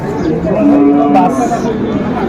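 Cattle moo loudly and close by at a livestock market, one long low call standing out over a busy background of other animals and faint chatter.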